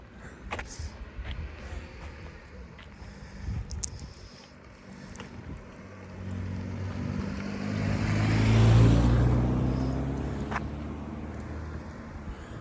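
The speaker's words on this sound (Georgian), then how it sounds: "იქიდან გამოდის მანქანა, მეთქი საიდან მოდის." A car pulls out and drives past outdoors: a low engine rumble swells gradually to a broad peak, then fades away under steady wind noise.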